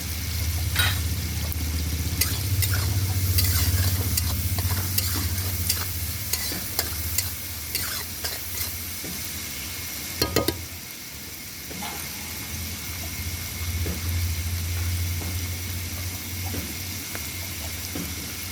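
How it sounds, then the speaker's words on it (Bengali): Prawns fry in a pan with turmeric powder over an outdoor clay stove, a loud steady sizzle with scraping stir strokes and clinks throughout, easing briefly midway before continuing. "চিংড়িটা আমার ভাজা হয়ে গেছে, দেখো আমি তুলে নিচ্ছি।"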